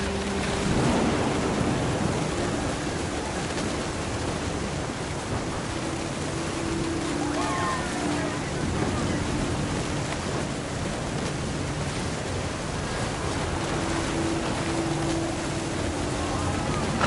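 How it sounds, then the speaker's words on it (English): Steady rain with low rumbling thunder in the video game What Remains of Edith Finch, a continuous stormy wash with a faint melodic tone threaded through it, at even loudness throughout. "The thunder sounded much too close and full of angry calm"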